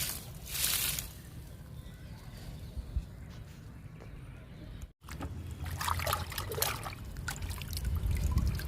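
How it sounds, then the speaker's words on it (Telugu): Liquid fertilizer trickles and splashes softly onto a hibiscus plant in a home garden, a gentle pour that breaks off briefly and then continues with small dribbles. "ఈ మందారానికి కూడా ఇచ్చేద్దాము లిక్విడ్ని"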